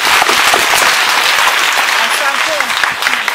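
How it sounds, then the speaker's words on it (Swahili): A crowd applauds a guest at a school ceremony marking a bank's photocopier donation, a dense burst of clapping that fills the space, with voices audible underneath. "tumpigie makofi tena ya kumpongeza dada Mary."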